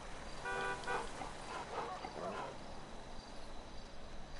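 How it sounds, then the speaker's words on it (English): A car horn toots a couple of times in a video game, short honks up close against a light ambient background. "Who are you honking at?"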